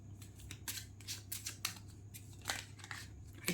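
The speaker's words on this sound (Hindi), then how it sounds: "चलिए मैं 1-2 कार्ड्स और निकाल लेती हूँ" Tarot cards drawn from a deck: a quick run of close, dry papery swishes and flicks in irregular bursts, soft overall, with no talking.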